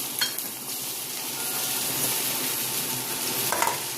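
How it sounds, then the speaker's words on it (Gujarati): Half a spoon each of mustard seeds and cumin crackle and sizzle in hot oil with a touch of turmeric, a dense, steady hiss close up with a few brief pops. "તેલ થવા આવ્યું છે તો હું એમાં અડધી ચમચી રાઈ, અડધી ચમચી જીરાનો વઘાર ઉમેરીશ"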